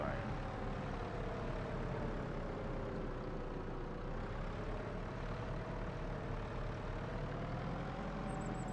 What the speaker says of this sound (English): Of course, there's a tractor on my way.